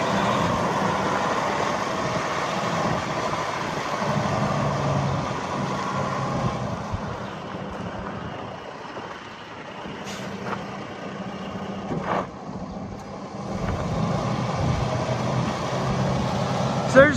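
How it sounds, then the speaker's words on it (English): A 2017 Western Star 4700 day cab work truck with its diesel engine idling nearby, a steady low rumble with occasional air-brake hisses and clicks, a voice talking over it at times. "real good sounding truck"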